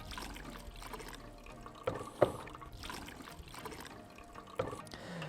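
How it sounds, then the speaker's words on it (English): Seawater is poured through filter paper held in a funnel, soft trickling and sloshing with a few sharper splashes, quiet and close. "something to hold that funnel while we pour the water in"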